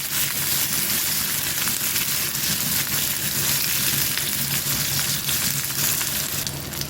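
Onions frying in a pan for a broad bean and brinjal curry, a loud, dense, continuous sizzle that stays even throughout, close up and without talk.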